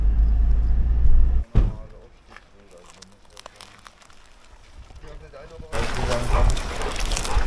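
A car pulls away from a petrol station and drives on, a deep engine rumble giving way to a lull and then a steady, louder broadband road and wind rush.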